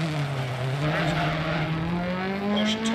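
Rally car in the Dirt Rally video game braking hard on a stage, a loud continuous engine note dropping and rising with skidding tire noise throughout, close and steady.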